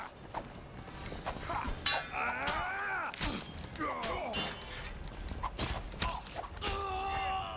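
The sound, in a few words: horses galloping in The Witcher 2 video game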